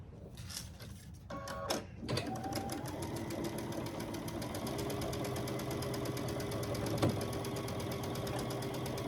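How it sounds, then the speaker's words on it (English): A domestic sewing machine stitches a quarter-inch seam along one side of a quilt corner block. After a few seconds of handling noise, it settles into a steady, close mechanical whir with a rapid needle rhythm. "I'm going to start at one end and I'll stitch all the way down this side here."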